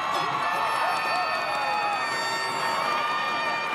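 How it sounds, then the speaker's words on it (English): A high school football crowd for Chatham Central cheers during a fourth-quarter game against Jordan-Matthews, a steady, loud roar of many voices with shouts rising above it and no break throughout. "they got the Chatham Central crowd going"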